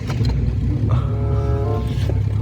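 A car engine cranks and starts in a freezing garage at about minus ten degrees, a steady low rumble throughout with a rising tonal whine as the engine catches and settles into idle, close and fairly loud.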